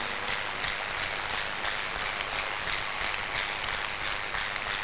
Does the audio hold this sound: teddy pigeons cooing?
no